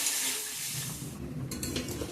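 Soybean curry frying in a pan, a steady close sizzle with faint stirring and scraping of the pan, no voices.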